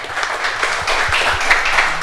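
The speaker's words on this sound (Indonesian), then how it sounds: "Ini tepuk tangan untuk Mas Untung ya." Audience applause at a live Gesah Banyuwangi broadcast, a short burst of loud, close clapping from a crowd, dense and continuous.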